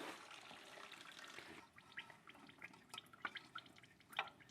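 Coolant splashes and drips from a Honda Civic 1.7L during a timing belt and water pump job, first a gushing pour, then scattered close drips and patters into and around a drain pan.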